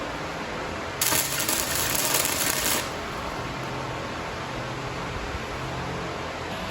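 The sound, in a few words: tack welding a cafe racer seat frame hoop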